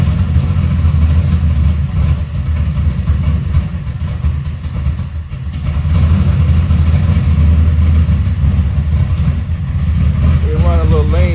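A big block Chevy engine idles steadily with a deep low rumble during carburetor tuning of the idle mixture, running a little lean while cold, with a faint whistle near the end.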